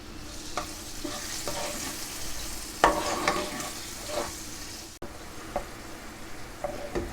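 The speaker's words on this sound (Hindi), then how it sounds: "और साथ ही इसमें टमाटर शामिल कर देंगे, टमाटर और हरी मिर्ची, और इन्हें भून लेते हैं।" Tomatoes and green chillies fry in a pan, a continuous sizzle with intermittent scraping stirs and a sharp clack midway, close and fairly loud with no voices.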